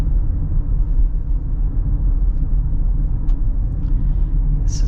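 Steady low rumble of a 2025 Toyota Highlander's turbocharged four-cylinder while driving, a constant deep drone of engine and road noise heard from inside the cabin, with no talking over it.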